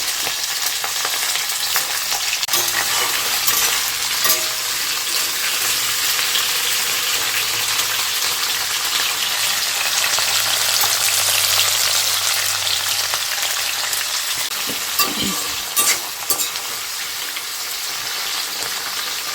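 Fresh vegetables for a simple chicken dish fry in a pan, a continuous loud sizzle with scraping stirs and a few clattering knocks toward the end, no talking.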